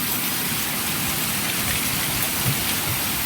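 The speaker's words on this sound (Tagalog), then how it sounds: "Unting kibot ng ulan, baha." Steady rain falling on a flooded street, a dense continuous hiss of drops spattering on surfaces and water, nearby and fairly loud, with no voices.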